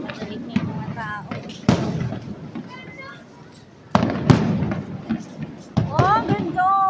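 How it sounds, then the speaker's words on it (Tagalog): Saturn-shaped fireworks burst in a series of sharp, loud booms with crackling tails, several explosions across the span, while excited voices talk and exclaim throughout. "Saturn na fireworks, no?"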